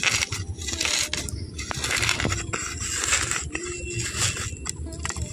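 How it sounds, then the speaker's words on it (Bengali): Fried chillies are mashed with salt by hand, producing close, irregular squishing and crunching sounds with small clicks, continuous throughout without talk. "এই লঙ্কাগুলো যে ভেজে রেখেছিলাম একটু আমি মেখে নিচ্ছি"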